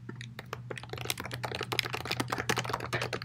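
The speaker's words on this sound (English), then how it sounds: "Sorry for typing, by the way." Rapid typing on a computer keyboard, close and fairly quiet, with irregular bursts of crisp key clicks running continuously and no voices.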